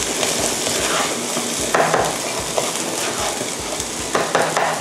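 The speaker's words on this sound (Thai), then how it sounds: "ทีนี้ก็ผัดทั้งหมดให้เข้ากันค่ะ" Soaked sticky rice stir-fried with a seasoned filling for bakjang, a continuous dense scraping and sizzling in the pan, close and loud, with repeated strokes of the spatula.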